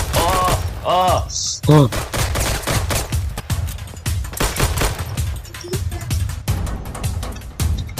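Video game machine gun fire comes in rapid bursts, loud and close, mixed with thumps and other game effects, while a player talks and reacts over the action.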